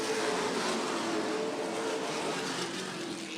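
Race cars circling Auto City Speedway during a CRA All-Stars Tour race, a loud continuous engine roar with a faint shifting whine, close and unbroken throughout.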